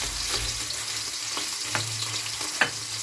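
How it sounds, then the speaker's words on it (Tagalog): Pork frying in a little oil in a pan while making ginataang laing, a dense continuous sizzle with a few soft utensil taps and scrapes, close and fairly loud, no talking. "Pa-fry mo po muna natin ng konti ang ating pork mga kaibigan."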